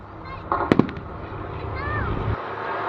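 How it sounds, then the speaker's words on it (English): Pyrotechnic flak bursts set off at an airshow mock battle fire a few sharp, loud booms in quick succession, with an announcer speaking over them and aircraft noise rumbling underneath. "The flak again being unleashed against our spotter aircraft."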